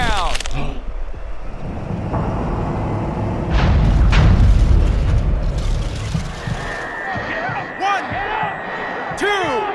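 Boxer hitting the canvas in Fight Night Champion, a heavy boom and slam amid punches, crowd noise and a commentator's voice, loud and close with sharp impacts scattered through.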